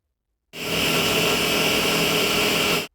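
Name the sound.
hammer drill drilling into concrete ceiling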